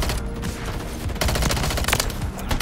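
Rapid gunfire from shotguns and sniper rifles in a Modern Warfare 3 multiplayer match, a dense, loud burst of overlapping shots with no talk.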